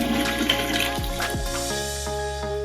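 Water drips and trickles as a hop bag is wrung out into the wort while brewing a Kolsch beer kit, with close splashing and a few distinct drops over a light running-water background.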